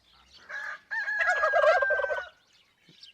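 Domestic turkeys gobbling in a farmyard coop area, a loud burst of several overlapping rattling gobbles lasting over a second, preceded by a shorter call and followed by quiet.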